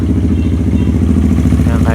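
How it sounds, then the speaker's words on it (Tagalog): The engine of a Suzuki GD110 pit bike with a 57mm build runs loud and close in a steady, throbbing idle with a rough, pulsing beat and no breaks. "paanda rin natin siya mga chong"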